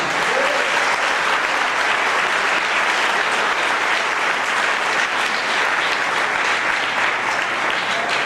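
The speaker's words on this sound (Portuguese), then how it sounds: "Aplauda o nome do Senhor Jesus" A church congregation applauds loudly and continuously during a worship service, a thick, even roar of clapping lasting throughout with no break.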